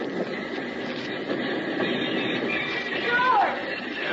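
A work train rolls in as a radio drama sound effect, a steady rumbling wash of wheels and cars with a brief squeal near the end, continuous and moderately loud.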